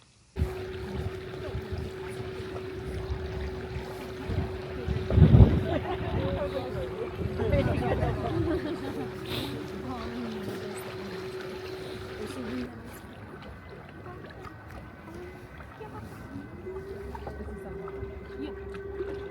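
A canal tour boat cruises along an Amsterdam canal at sunset, its engine a steady low drone with water washing past, while people talk nearby throughout.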